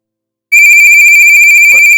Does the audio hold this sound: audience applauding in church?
no